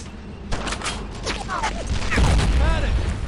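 Gunfire and explosions in the World War II shooter Brothers In Arms: Earned In Blood, with repeated sharp shots and booms over a dense battle din, and shouting voices mixed in.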